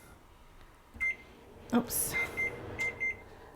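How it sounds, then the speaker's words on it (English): A kitchen oven timer being set to 20 minutes gives a string of short, sharp beeps, one on its own and then a quick run of pairs, close by over quiet room tone, with one brief spoken word. "let's set the timer, excuse my back, for 20 minutes."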